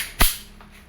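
Single sharp pop of a WE Glock 34 gas blowback airsoft pistol fired into a chronograph, loud and close, followed by a faint mechanical click and quiet room tone.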